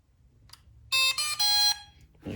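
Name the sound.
Ruko F11 Pro 2 drone beeping when turned on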